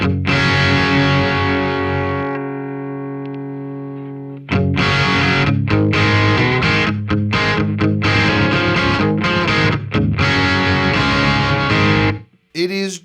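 A Fender Acoustasonic Telecaster runs through vibe and drive effects into a Marshall Astoria amp, giving a loud, distorted electric guitar playing sustained chords and choppy strummed passages with a brief gap partway through.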